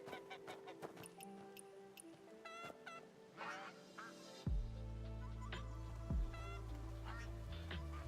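A goose in a video game honks repeatedly, with several loud nasal honks and squawks rising over a busy game soundscape of chimes and effects, ending in a sustained low tone.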